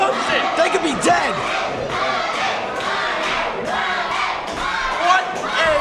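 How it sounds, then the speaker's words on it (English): A wrestling crowd cheers and roars after a back superplex off the top rope, a loud, sustained wall of shouting and yelling with surging peaks, heard without commentary. "The crowd loves it."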